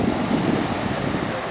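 Atlantic Ocean surf crashing steadily on the beach at Long Beach Island, New Jersey, a continuous broadband roar with wind buffeting the microphone and no voices.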